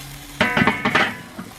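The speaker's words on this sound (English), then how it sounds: "Lots of smoke, lots of sizzle." Spatchcock chicken sizzles and spits loudly on a Weber charcoal grill, several sharp crackling bursts close by over a short stretch, fading to a quieter hiss.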